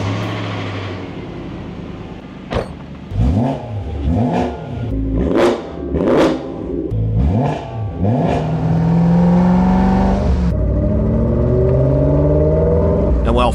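BMW E92 M3 fitted with a new valved exhaust, revved repeatedly in sharp blips that rise and fall, with a loud, close engine note, then settling into a steady high drone; no one talks.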